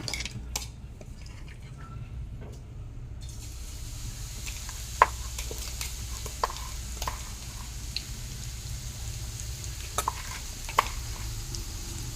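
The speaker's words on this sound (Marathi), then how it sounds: "लसूण मिरची आणि जिरे मिक्सरमधनं बारीक करून घेतले याची फोडणी घालूया" Ground garlic, green chili and cumin sizzle softly in hot oil as a tempering in a pan, a steady faint frying hiss with occasional clinks of a utensil against the pan.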